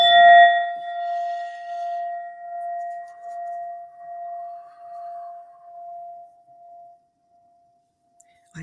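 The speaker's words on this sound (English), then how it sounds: "this beautiful Indian metal bowl" A beautiful Indian metal singing bowl is struck once and rings out in a clear, pure tone that swells and fades gently over several seconds before dying away.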